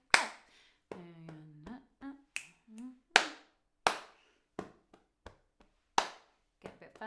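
One person leading a sing-along session claps sharply and alone along to a slow rhythm, sounding about every half second to second. Between the claps a voice hums and sings short rhythmic syllables.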